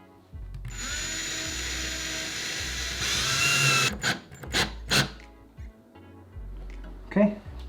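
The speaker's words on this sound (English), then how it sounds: "I found it's a lot easier to put the screws in once you drill a small hole first" A power drill whirs in short bursts while pilot holes are bored for the screws of a thermostat back plate, the motor revving and stopping under nearby talk.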